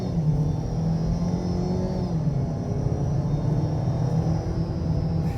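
A 2021 Ford Bronco Sport Badlands with a 2-liter turbo engine pulls steadily under acceleration, a continuous low droning engine note heard from inside the cabin with no talk.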